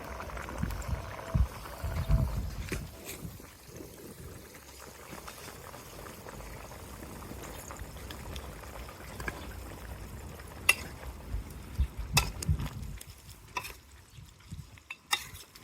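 Chilli chicken varuval, a village-style dry-chilli dish, bubbles faintly in a covered pot with a soft continuous simmer, broken by occasional scraping clinks of a spoon stirring the pan.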